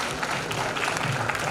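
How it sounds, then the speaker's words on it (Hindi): Applause at a university convocation ceremony, a steady dense wash of clapping from a large audience filling the short moment with no voices on top. "तालियों का शोर करने का चाहिए"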